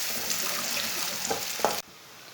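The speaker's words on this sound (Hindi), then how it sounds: "ऑयल हमारा गर्म हो चुका है। एक बारीक कटा हुआ प्याज डालेंगे।" Finely chopped onion sizzles steadily in hot oil in a pan, a close, even frying hiss that cuts off abruptly near the end.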